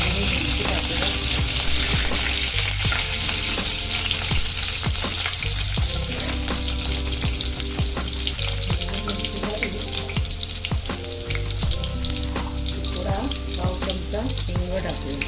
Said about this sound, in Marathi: आता इथे आपलं तेल तापलेलं आहे, त्याच्यात आधी आपण सर्वात आधी हिरवी मिरची टाकूया